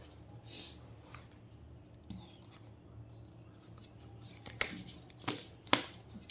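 Tarot cards are shuffled and drawn at close range in a quiet room, with soft riffling followed by a few sharper snaps and slaps of cards near the end.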